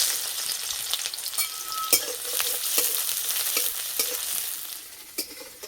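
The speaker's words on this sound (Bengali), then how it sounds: "পেঁয়াজ হালকা করে ভেজে নিয়েছি।" Onions frying in oil in a wok, with a steady close sizzle broken by repeated scraping stirs, and no talk.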